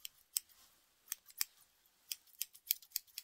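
A pair of scissors snips repeatedly in quick, irregular bursts, crisp and close but fairly quiet, with short pauses between clusters of cuts and no talking.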